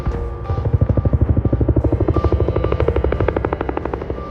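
A helicopter on the Vaishno Devi pilgrimage route in India thumps loudly nearby, its rotor beating in a fast, steady rhythm that holds throughout.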